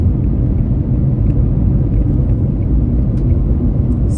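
Inside a Nissan Magnite Acenta Plus CVT on a highway drive, a steady low rumble of road and wind noise fills the cabin, continuous and fairly loud with no talking.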